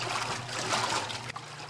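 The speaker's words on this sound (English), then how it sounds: "I'm just draining here to get some clear water" Water drains from a washing machine in a steady, hissing trickle that stays loud and even, with a brief dip near the end and no talking.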